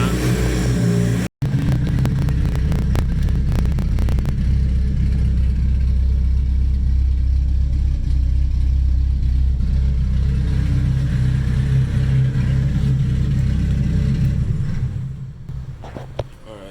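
Nissan KA24DET engine idling after its timing cover was sealed, a loud steady low rumble with an even mechanical clatter, a brief cutout near the start and the idle easing off toward the end.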